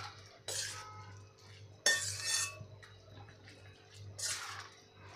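Carrot halwa with freshly added milk is stirred in a pan, giving a few sparse metallic scrapes and clinks of a spoon against the vessel, with quiet stretches between them.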